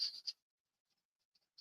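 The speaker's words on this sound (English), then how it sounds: "As long as you don't mind that noise," A colored pencil scrapes across paper in a quick scratchy stroke, followed by quiet and a few faint light taps, close up with no talking.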